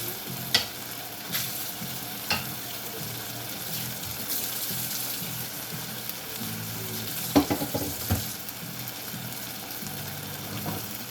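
Food fries and sizzles in a pan while being stirred, giving a constant soft crackle with scattered scrapes and clinks of a utensil, close by and without talk.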